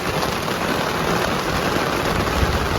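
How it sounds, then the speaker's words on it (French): Steady heavy rain from a thunderstorm pours down around a camper van at a campsite aire, a dense even hiss filling the whole clip with no pauses. "il pleut"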